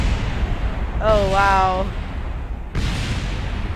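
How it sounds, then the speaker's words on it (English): Explosions in a tank video game, with aquatic tanks among the vehicles: a dense, loud rumbling blast that runs under a voice saying a few words, then a second sharp burst near the end. "Oh, the explosions are real."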